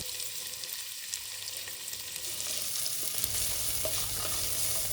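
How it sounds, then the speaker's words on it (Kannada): Sliced medium onion and curry leaves frying in coconut oil and ghee for Tulunadu pathrode, a continuous close crackling sizzle that grows louder and busier partway through. "ಇದಕ್ಕೆ ಸ್ವಲ್ಪ ಕರಿಬೇವನ್ನು ಹಾಕಿ ಫ್ರೈ ಮಾಡ್ತೀನಿ"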